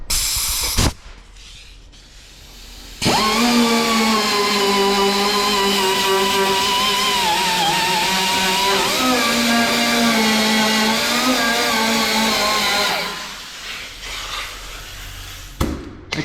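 A power tool fitted with a paint remover wheel strips paint off a 1954 Chevy truck, whining loudly and steadily for about ten seconds with a shifting pitch, set between quieter stretches before and after.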